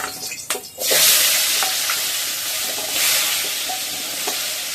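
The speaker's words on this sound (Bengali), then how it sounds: "নুন হলুদ মেখে আলুগুলোকে ছেড়ে দিতে তেলে।" Potatoes coated in salt and turmeric sizzle and spit in hot oil in a wok, a loud, steady broadband frying hiss that swells after a brief quieter start.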